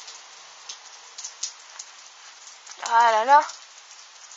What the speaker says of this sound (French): Là, c'est continu le grésil.